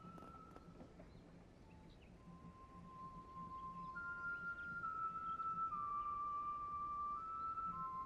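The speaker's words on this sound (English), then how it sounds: "Man whistles loudly." A man whistles a sustained, wavering tune in a Legend of Heroes: Trails Through Daybreak town scene, set over quiet ambient noise and growing a little louder partway through.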